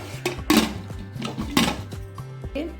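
A pressure cooker pot being covered with its metal lid, a few close clanks and knocks of metal against metal in quick succession over a faint background hum.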